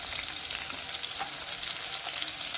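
Chopped green chilli, ginger and garlic fry in hot oil with a steady, close hiss of sizzling that runs unbroken throughout, with faint stirring scrapes underneath and no voices.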